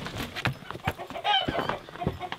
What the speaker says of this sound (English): We have captured all of our chickens.